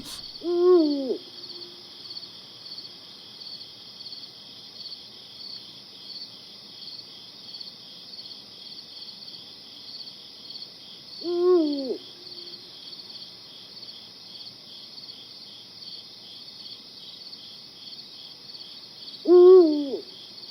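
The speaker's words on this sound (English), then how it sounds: "The largest and most powerful of Europe's night birds of prey now begin their courtship in the hillock from which they control their hunting grounds." Eurasian eagle-owls calling at night during courtship from a hillock, with three deep, distinct hoots spaced several seconds apart over a steady high drone of crickets and insects.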